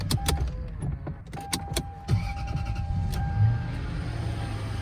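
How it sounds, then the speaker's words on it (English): Power steering column motor in a Lexus LS430 whirring as it lowers the steering wheel, a close, steady mechanical hum under a few sharp clicks and knocks inside the car. "steering wheel goes back down"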